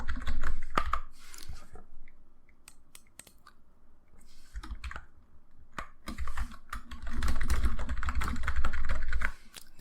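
Rapid keyboard typing on a computer keyboard while Python Flask code is edited, with bursts of close clicking keystrokes separated by brief pauses, no voices.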